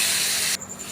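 Spice paste hitting hot oil with bay leaf and dried chilli while cooking Bengali potol posto with cashew, a loud broad sizzle that cuts off abruptly about halfway, leaving a quieter hiss.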